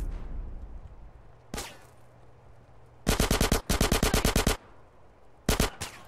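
Machine pistol gunfire in the game GTA San Andreas, with a single shot followed by several loud, rapid automatic bursts of close, sharp reports separated by short pauses.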